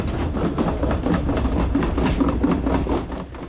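A train rolls slowly along a rough track on the route to Machu Picchu, with a continuous heavy rumble and rhythmic clatter heard from on board.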